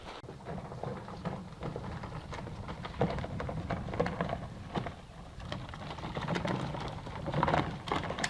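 Rain falls steadily outdoors, a soft, even patter of drops on surfaces with scattered louder drips, quiet and close, with a pigeon's cooing faintly in the background.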